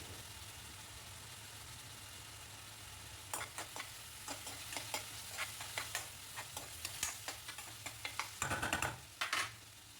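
Onion, garlic and curry leaves sauté in hot oil for a kanava gravy, a low steady sizzle at first, then stirring scrapes and clicks join in the second half, building into a denser burst near the end.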